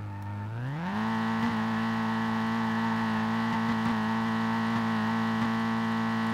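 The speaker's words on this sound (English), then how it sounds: "Oh, this is such a dead engine." A failing car engine in the SLRR racing game drones steadily after a quick rise in revs, a loud, even, buzzing hum held at one pitch with faint clicks.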